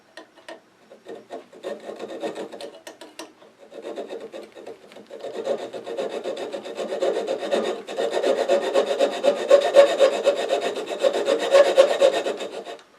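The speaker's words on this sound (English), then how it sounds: "Little touch-up sandpaper." Sandpaper rubbing a small wooden miniature Christmas tree spinning on a lathe, a steady close rasping hiss that starts in short bursts and then builds into continuous, louder sanding.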